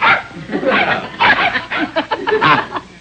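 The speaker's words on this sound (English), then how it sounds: "That's my dog." A dog barks in a burst of short, close, loud yaps inside a home, mixed with chuckling and laughter from people nearby.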